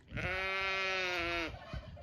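Sheep bleating out on open moorland, one long sustained wavering bleat that is loud and close, followed by a faint rustle.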